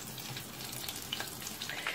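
Chicken nuggets deep-fry in a bath of hot oil, giving a dense, even sizzle with tiny crackling pops, close and steady for a couple of seconds with no voices.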